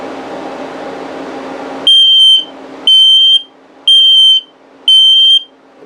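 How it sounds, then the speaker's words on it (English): An LP and carbon monoxide detector in a 2021 Palomino Palomini 186RBS RV runs its self-test: a stretch of steady noise, then four loud, shrill, evenly spaced beeps about a second apart. "It'll go through 2 tests, one for LP, one for carbon monoxide, and then go into the low battery mode so you can hear it"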